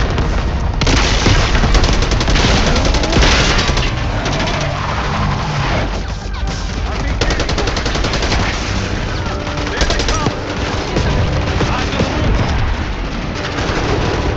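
Heavy sustained gunfire in a Call of Duty Black Ops 6 campaign assault on a palace gate: dense machine-gun bursts, booms and loud continuous shooting with faint shouting underneath.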